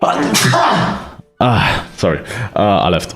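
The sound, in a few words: sneeze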